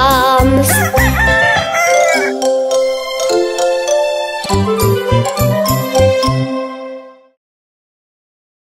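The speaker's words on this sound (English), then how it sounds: "Hear the cockle-doo of the rooster loud everywhere, like the ringing of alarms." A loud rooster crow rings out within a cheerful children's nursery-rhyme song, blending with bright musical tones before the sound stops abruptly into silence.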